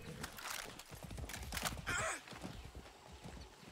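Horse hooves clip-clop steadily in the Far Cry 6 video game, with a brief whinny partway through, loud and close with no talk.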